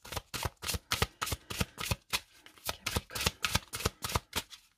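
Tarot cards are shuffled in a quick, even rhythm of papery riffles and soft slaps, close and clear, repeating about four times per second without talk.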